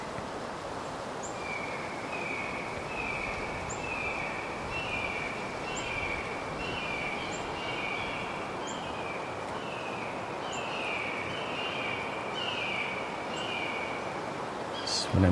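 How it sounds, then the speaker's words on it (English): Repeated high, descending red-shouldered hawk calls in a steady series, moderately distant, echoing over a constant background hiss of wind or rustling. "meet the red-shouldered hawks and chickadees"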